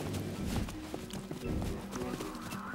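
Horses walk and stamp nearby, giving a steady scatter of hoof clops and shuffling thuds over a low, busy background, moderately faint with no clear rhythm.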